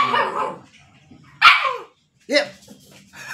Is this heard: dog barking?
yes